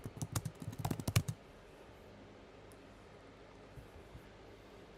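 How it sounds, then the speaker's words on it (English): A burst of quick computer keyboard keystrokes, close and fairly loud, lasting just over a second before dropping to a quiet room tone. "we'll type in the word golf cart so it'll be easy to find"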